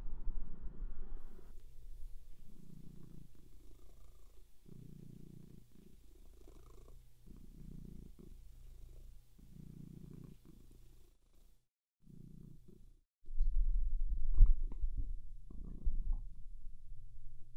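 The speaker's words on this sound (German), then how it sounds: "Ich mache mal kurz die Musik aus, vielleicht hört man sie dann besser schnurren." A cat purrs close to the microphone in a quiet room, with low rhythmic rumbling pulses repeating about every second on each breath, a short pause near the middle, then a louder, fuller stretch toward the end.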